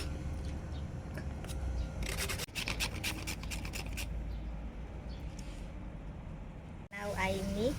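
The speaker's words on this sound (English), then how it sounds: "Palm sugar we also grate a bit." Palm sugar is grated by hand with repeated rasping scrapes in short rhythmic bursts, close and fairly quiet, over background room noise.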